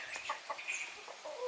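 Newly acquired hens cluck and chirp softly in a quick, irregular run, faint and nearby with no voices.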